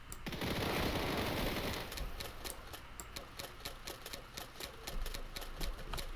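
Rapid automatic gunfire from a weapon in the block-built video game Hytale, a dense burst at first that then settles into a steady, fast stream of sharp repeated shots.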